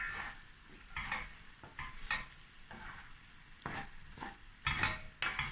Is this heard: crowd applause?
no